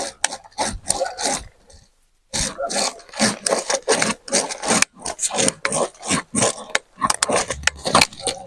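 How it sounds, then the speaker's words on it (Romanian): Parkside telescopic pruning shears working through a thick branch, producing rough, scraping cuts in uneven bursts with a brief pause, close and fairly loud. "este o creangă destul de groasă ce vreau să tai."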